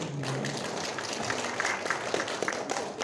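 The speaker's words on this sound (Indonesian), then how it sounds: "Beri tepuk tangan untuk Bapak Deni" An audience at a startup talk session applauds a speaker being introduced, a moderate, somewhat thin patter of clapping from a modest crowd, steady across the moment.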